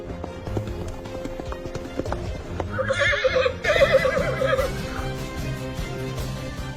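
A horse whinnies loudly midway through, a bright shaking neigh, surrounded by clip-clop of hooves and movement noise, fairly close.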